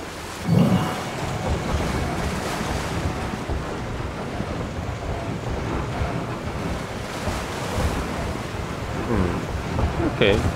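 Steady rain falls in Zelda: Tears of the Kingdom, a constant broadband hiss lasting throughout at a moderate level, with no clear thunder. A brief bump near the start and faint knocks near the end sit over it.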